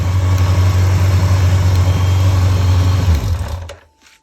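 A motorcycle engine running rich idles loudly and close, a steady deep throb with a rough mechanical rattle, then cuts out and falls silent after about three seconds.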